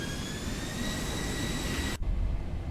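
Boeing 737 jet engines spooling at full throttle in X-Plane 11, a steady loud roar with whining high tones that abruptly changes to a deeper rumble partway through, no voices.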